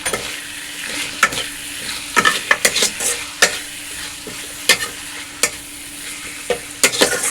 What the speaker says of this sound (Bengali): চিকেনগুলো হালকা ভাজাও হয়ে গেছে আর সিদ্ধ হয়ে গেছে। এরকম আমি খুন্তি দিয়ে চাপছি, প্রেস করছি